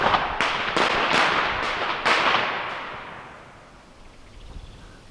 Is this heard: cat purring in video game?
no